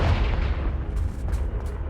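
A Confringo fire spell from Hogwarts Legacy bursts in a continuous loud, booming explosion with deep rumbling low end and crackling bursts, sustained across the whole moment with no talking.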